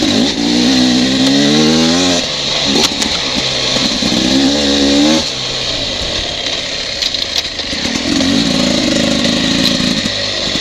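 A Beta 300RR dirt bike during break-in riding, its two-stroke engine loud and close, revving up through the gears in rising sweeps, dropping briefly, then pulling hard again with steady wind rush throughout.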